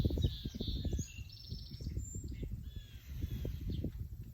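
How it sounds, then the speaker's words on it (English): Several birds call and chirp outdoors, with high, scattered whistles over a low, busy rumble of background noise. "Listen to the birds."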